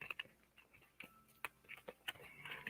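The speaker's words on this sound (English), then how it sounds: "these cards will get a good shuffling" Tarot cards being shuffled by hand, giving a series of sharp, irregular close-up clicks and flicks with short bursts and small gaps, like light tapping, heard alone with no talk.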